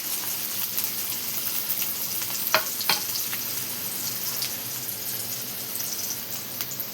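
Finely chopped onions, added after garlic and cumin, fry in hot oil with a steady close sizzle, broken by a couple of sharp clicks from stirring; no voices are heard.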